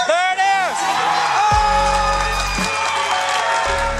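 Spectators at the 2019 Classic Tetris World Championship applaud and cheer as a match suddenly ends. The crowd noise runs steadily under loud game music with sustained tones and deep bass, and a voice talks over it.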